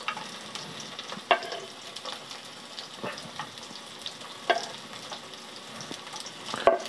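Garlic frying in oil in a small pan, a steady soft sizzle with a few sharp clicks of a utensil stirring against the pan, close by and without talk.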